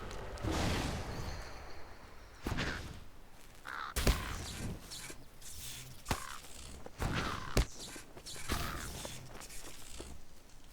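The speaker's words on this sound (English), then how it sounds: "I got plenty of birds all around here." Crows cawing close by in an outdoor spot, several harsh calls spread through the stretch with footsteps and rustling in between.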